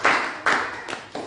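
A church congregation claps along in bursts during a Swahili sermon, with broad rhythmic bursts of hand claps repeating about every half second, fairly close and loud, with no talk over them.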